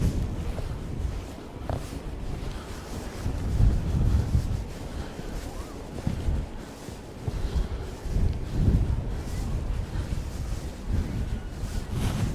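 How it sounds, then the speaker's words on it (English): Cold, biting wind buffets the microphone on the coast at West Bay, Dorset, a steady low roar with gusty swells and faint surf beneath, no voices present. "Still a cold, biting wind."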